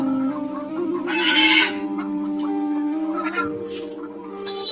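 Chickens cluck in a poultry shop, a busy, fluttering burst of fowl noise rising over a steady tonal background with a few softer clucks afterward.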